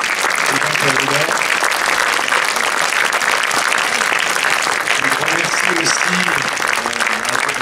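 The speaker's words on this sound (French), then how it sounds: "je vous demande d'applaudir encore une fois les intervenants" A conference audience gives the speakers a loud, sustained round of applause, dense clapping filling the room without pause, with a few voices faintly audible underneath.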